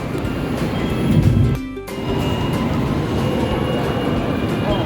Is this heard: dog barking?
no